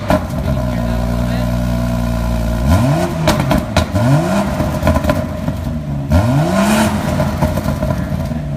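BMW X4 M40 engine revving: a steady idle, then several sharp blips of the throttle that rise and fall in pitch, loud and close, with a voice talking at times.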